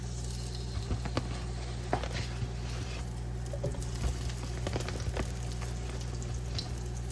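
Frozen plant-based sausages go into a pan of hot oil, giving a soft, steady sizzle and faint crackle with a few light pops, heard close and alone.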